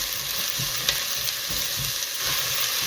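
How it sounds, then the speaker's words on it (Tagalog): Garlic and onion stir-frying in a pan for a simple soup, a steady close sizzle with scraping stirring strokes recurring every second or so, no voices. "So, stir fry lang natin itong garlic and onion."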